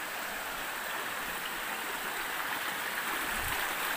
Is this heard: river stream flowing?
yes